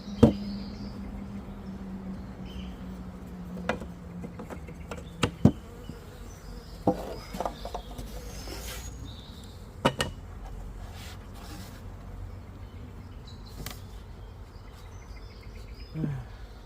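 Honeybee swarm settled in stored hive equipment and moving into the entrance, a steady hum of many bees with individual insects buzzing close past, along with a few faint knocks and bumps.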